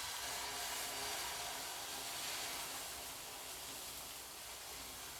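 Egg omelette sizzles in coconut oil in a pan, a faint, steady hiss with no voices.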